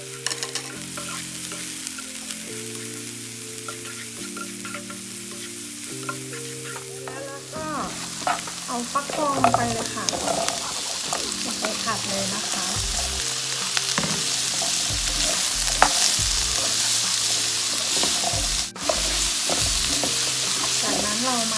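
Garlic stir-fries in a pan for a prawn and pumpkin dish, first as quiet low tones, then a steady loud sizzle with repeated scraping and stirring strokes close by.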